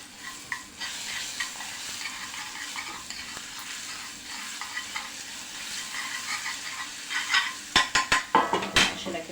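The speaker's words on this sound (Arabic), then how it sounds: "انزل بقى هنا بالثوم، واول ما انزل الثوم انزل عليه على طول كده بمعلقة، نص معلقة كده من الكزبرة الناشفة" Garlic fries in ghee with half a spoon of dried coriander for a rice dish, a steady close crackling sizzle with stirring scrapes that grow sharper and more frequent toward the end, with no voices.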